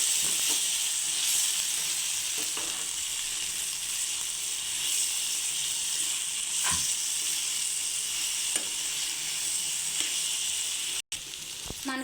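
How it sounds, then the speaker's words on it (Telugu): Okra (ladies' finger) frying in a pan, a continuous hissing sizzle with occasional clicks and scrapes as the pieces are turned, fairly close and with no voices. "మనకి బెండకాయలు కూడా బాగా ఫ్రై అవుతుంది."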